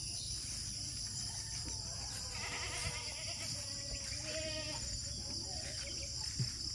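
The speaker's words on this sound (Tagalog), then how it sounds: "Punta tayo doon sa kambing" A goat bleats a few wavering calls in the Philippine countryside, moderately close, over a constant high drone of insects and a busy rural background.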